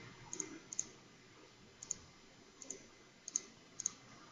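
Sharp, light mouse clicks while working in Trello, arriving singly and in quick pairs, close and crisp against a quiet background.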